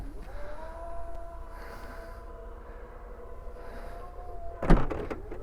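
A Chery Tiggo 8 tailgate slams shut with a single solid thud near the end, after a few seconds of low mechanical hum and faint whirring.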